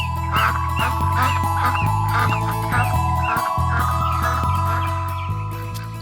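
A goose honking repeatedly in a countryside setting, a run of loud, nasal calls at a quick, regular rhythm over a low sustained drone, close and prominent, with no voices.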